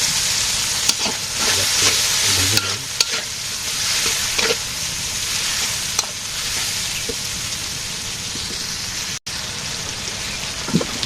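Steady sizzling of onions frying in hot oil with turmeric, chili and coriander powder, with occasional stirring scrapes and clatters, close and fairly loud throughout.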